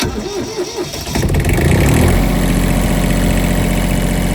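A boat's engine cranks briefly at a marina, catches and settles into a loud, steady rumbling idle close by.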